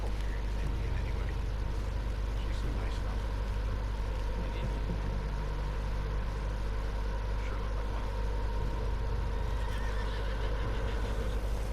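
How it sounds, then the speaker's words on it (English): A horse in Red Dead Redemption 2 neighs over a steady low rumble and background ambience, with hoof clops mixed in. "What's wrong with this horse?"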